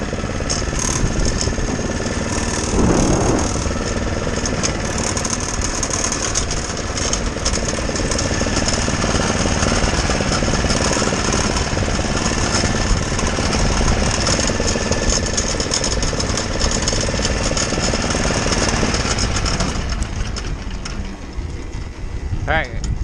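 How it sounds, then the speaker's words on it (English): A Toro TurfMaster bagging lawn mower engine runs steadily as it warms up outdoors, a loud continuous rumble mixed with heavy wind buffeting the microphone and a voice talking over it. "was trying to let the mower warm up for a minute before we go through this yard over here."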